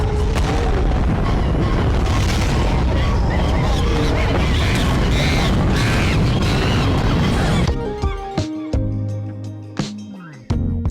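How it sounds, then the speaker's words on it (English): A rocket launch blast-off roars as a loud, dense, continuous rumble for several seconds, then breaks off abruptly into sustained tonal music-like notes. "Space Monkeys blasting off with Joe Petrowski."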